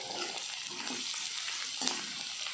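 Soaked masoor lentils with turmeric powder being sautéed in a pan, making a soft, even sizzle with light stirring scrapes and one brief clink, no talking.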